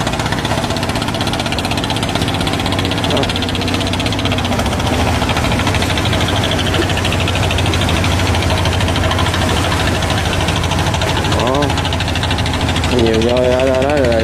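Crab and fish boats return to a busy harbor in Vietnam, their diesel engines chugging and knocking loudly and continuously up close, with someone speaking over the engine noise.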